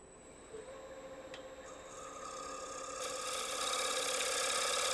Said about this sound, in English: Doing what we call a shear cut. That's where I'm riding the side of the bevel against the face and rolling the tools into the cut.